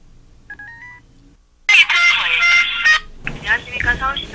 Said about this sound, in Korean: 몇 번 더 시도해 본 뒤 전화가 드디어 연결되었다.